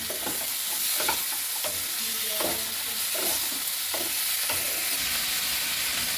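Chicken frying with vegetables in a pan for a homemade chicken soup crackles under repeated stirring strokes, a dense sizzle with regular scraping pulses about every half second, close and continuous, with no voices.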